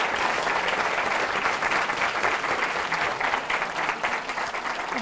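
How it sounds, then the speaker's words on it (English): An audience at a high school pitch competition applauds steadily and loudly, with dense clapping throughout and a crowd murmuring underneath. "A round of applause."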